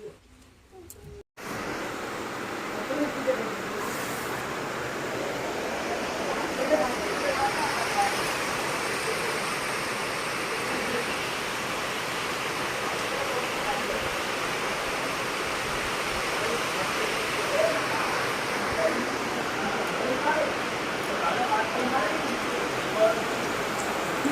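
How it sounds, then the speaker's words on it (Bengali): Heavy rain pours down in a dense, steady roar that continues unbroken throughout, close and loud. "এত জোরে বৃষ্টি এসেছে"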